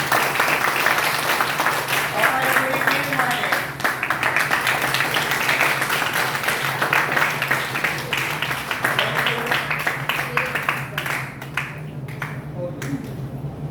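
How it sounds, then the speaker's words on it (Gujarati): An indoor audience at a robotics gallery in a science city claps in a steady, dense round of applause that lasts throughout, with a voice speaking over it. "આ પૂરી રોબોટિક ગેલેરી માટે જોરદાર તાળીઓ થઈ જાય"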